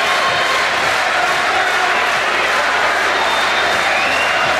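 A boxing arena crowd during a late-round bout between Roman Karmazin and Sebastian Sylvester roars continuously, a loud dense wash of cheering and noise with a commentator speaking faintly underneath.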